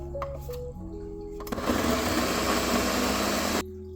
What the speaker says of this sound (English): All right, now let's blend it up.